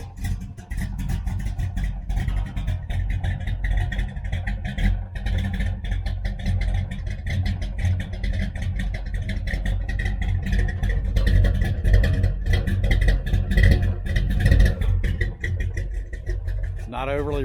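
1966 Dodge Charger V8 with a Holley 4150 carburetor idling low while warming up, a steady loud rumble with a faint rising whine near the end and talk over it.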